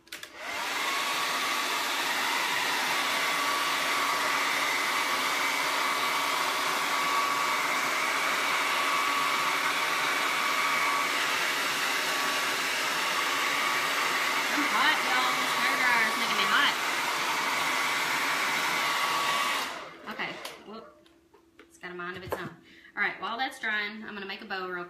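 A hair dryer blows steadily and loudly for about twenty seconds while drying a chalkboard sign, then cuts off, followed by quieter handling noises.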